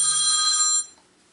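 A mobile phone ringtone trills loudly and steadily indoors, ringing for under a second before cutting off, with a faint low hum beneath.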